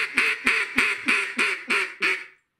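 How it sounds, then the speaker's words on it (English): An Arkansas-style double reed zinc hen duck call from Echo is blown in a run of seven evenly spaced, loud, nasal quacks that fade slightly toward the end, with no other sound around them. "Using a double reed zinc power hen right now."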